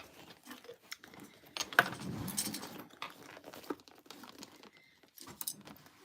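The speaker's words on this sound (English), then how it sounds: "move these clippies. Move the ripper. Move the scissors." Sewing clips, a seam ripper and scissors are moved around on a sewing table, giving soft clicks, taps and a crinkly rustle in an uneven scatter, quiet and close with no talk.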